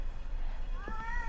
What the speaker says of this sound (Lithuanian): Spiegiantys katinai.